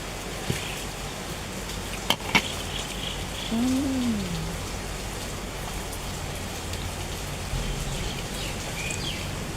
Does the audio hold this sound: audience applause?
no